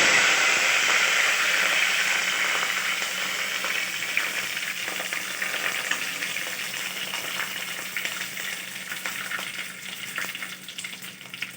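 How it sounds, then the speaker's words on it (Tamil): Curry leaves crackle and sizzle in hot oil just after mustard seeds have popped, for a chicken curry; a loud, dense, steady frying hiss runs throughout with no voices and eases slightly toward the end. "கடுகு பொரிஞ்சதுக்கப்புறம் கறிவேப்பிலை போடணும்"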